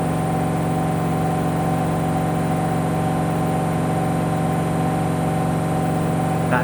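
A Candy washing machine on a Whites 90 cycle holds its final spin at 1600 RPM, giving a constant, close whirring drone with a steady high tone and no voices.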